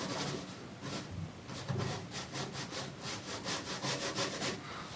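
A paintbrush scrubs ultramarine blue and yellow ochre paint onto a seascape painting in quick, rhythmic, rasping strokes, close and steady throughout with no voices.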